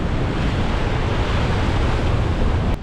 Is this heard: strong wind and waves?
yes